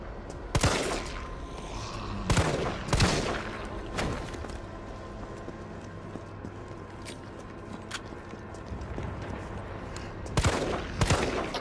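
Gunfire in the Resident Evil 3 Remake Raccoon City demo: about six loud, sharp shots come in irregular clusters, a couple early, one mid-way and two near the end, over a low ambient game background.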